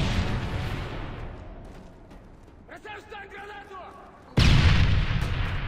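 Stun grenade detonating in Modern Warfare 3 during a Search and Destroy match: a sudden loud, close burst near the end that hangs on as a dense roar, after quieter game noise and a stretch of voice chatter.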